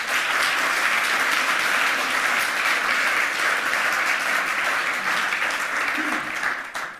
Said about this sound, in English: Please give her a warm round of applause of welcome.